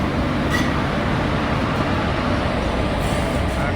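Puri Express passenger train hauled by a WAP-4 electric locomotive, travelling from Vijayawada toward Tirupati: a steady, loud rumble of running rail wagons holds without letup, with no voices.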